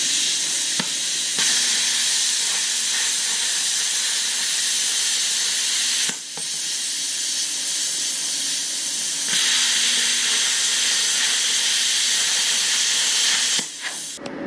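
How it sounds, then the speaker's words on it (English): A plasma cutter slices through 1/8 inch steel on a welding table with a loud, continuous hiss and roar. The sound holds steady and breaks only briefly twice. "Plasma cutter works."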